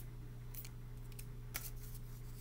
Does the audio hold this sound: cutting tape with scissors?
yes